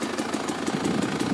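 A ZM Tracer 300 2T two-stroke motorcycle engine idles steadily in neutral nearby, its close, even exhaust pulses repeating several times per second with no talk over it.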